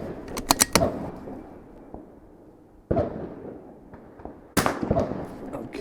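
Rifle fired at an outdoor range during an NRL22 course of fire: a quick cluster of sharp shots near the start, then two more single reports spaced apart, each ringing out over quiet surroundings.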